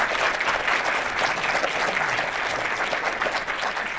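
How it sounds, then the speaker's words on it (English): A panel discussion audience gives the panelists steady, dense applause at a constant level throughout. "let's give the panelists a wonderful round of applause"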